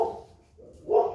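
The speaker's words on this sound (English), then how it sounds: "That's my dog." A dog gives two short, muffled barks, one at the start and another about a second later, fairly close with no talking.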